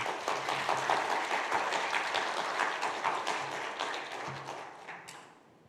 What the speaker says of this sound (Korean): 우리 목사님 나오실 때 우리 반갑습니다, 환영합니다. 혹시 박수로 한번 모시겠습니다.